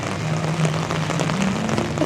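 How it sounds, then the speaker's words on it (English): Steady rain falls outdoors at a theme park, a dense, even patter on surfaces that holds constant throughout with no voices. "Look at how it's raining."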